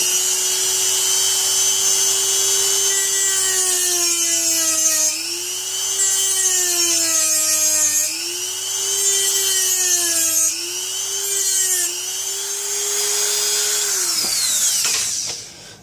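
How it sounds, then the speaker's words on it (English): A Dremel rotary tool cuts into a battery pack casing while an ebike battery is being harvested. It whines loudly and steadily for about fourteen seconds, its pitch dipping and rising in repeated waves as the bit bites and eases, then it spins down at the end. "with a Dremel showing you just the amount of cut that I make to get started"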